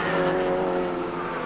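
2.1 litre modified race cars racing on an oval circuit, a steady, dense engine roar held at high revs throughout, several motors blending together at close range.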